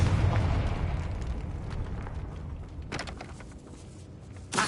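A fire-blast spell in a Hogwarts video game bursts with a loud, rumbling boom that rolls off slowly, followed by scattered debris crackles and a sharp final hit.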